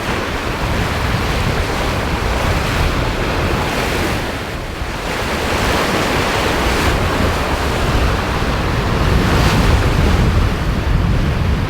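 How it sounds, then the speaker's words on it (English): Breaking ocean waves roar continuously around a sailboat at sea in the Caribbean, loud and close, with strong wind buffeting the microphone and surges of spray rising and falling. "Breaking waves is to be expected here, and this is actually nothing compared to what's normal."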